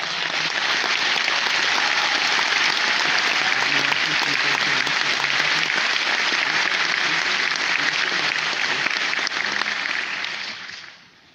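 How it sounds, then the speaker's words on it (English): A large crowd at the Hugo Awards ceremony applauds in a sustained, loud, even roar of clapping for over ten seconds, fading out quickly at the end. "I'd like you to really give them another round of applause for all of them."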